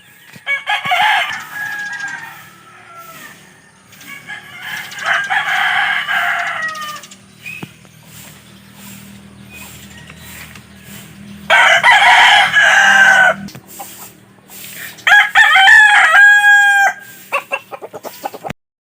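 A fighting cock crows loudly and close by several times, long drawn-out calls separated by quiet gaps, with some faint clucking between.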